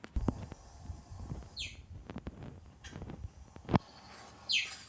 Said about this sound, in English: They also make this weird bird chirp sound